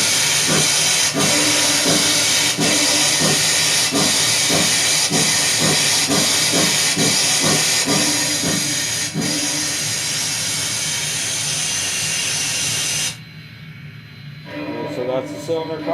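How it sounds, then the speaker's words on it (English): A Kato sound box steam locomotive sound plays a steady, loud hiss of cylinder cocks blowing out over regular chuffing beats, which fade before the hiss cuts off sharply near the end, leaving quieter sound. "So that's the cylinder cocks"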